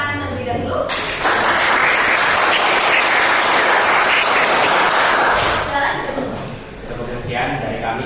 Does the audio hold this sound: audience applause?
yes